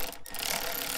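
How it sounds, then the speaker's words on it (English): An electric ratchet wrench removes 10 mm bolts from the intake manifold shroud on a GM 6.5L diesel truck, giving a steady, close mechanical whir that briefly dips and then continues. "I'm just gonna use my electric ratchet wrench, and I am going to remove this shroud from above the upper intake manifold."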